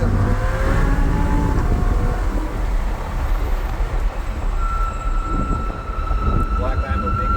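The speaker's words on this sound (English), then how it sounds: "Lambo passes Lambo" Lamborghini Huracans on a track day, one twin-turbo car passing another Lamborghini: a loud, sustained roar of high-performance exhaust, close and continuous, with a rising whine late on and crowd chatter underneath.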